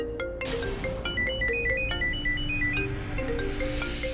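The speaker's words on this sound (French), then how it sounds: "Elle t'appelle sur ton téléphone." A phone ringtone plays in a steady looping melody of bright repeated tones for about four seconds, close and clear, over a low background hum, with no talking.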